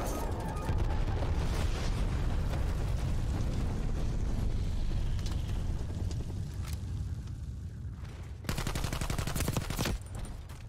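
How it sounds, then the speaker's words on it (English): A napalm strike in Black Ops Cold War lands amid constant gunfire, with rumbling booms and crackling fire building into a dense, loud barrage, then a sharp burst of rapid automatic fire near the end. "Napalm strike."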